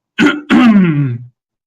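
A man imitates a loud cough: one short burst, a brief pause, then a longer, rough, drawn-out throat-clearing cough, close and loud.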